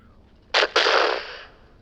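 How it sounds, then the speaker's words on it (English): A booming sound effect like a distant sonic boom: one sharp double-onset blast that rolls off and fades over about a second, heard alone. "sort of like booming sound off into the distance"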